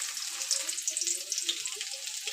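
Onions sizzle in tempering oil with dried red chillies, cumin, chana dal and mustard seeds, a close, continuous frying hiss dotted with small pops and crackles.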